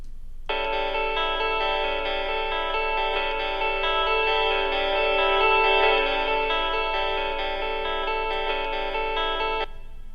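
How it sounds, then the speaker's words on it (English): A sustained harmonic tone processed with reverb through an aux send in Logic Pro X, rising steadily and holding evenly for about nine seconds before stopping cleanly, with no talking. "So now I have reverb."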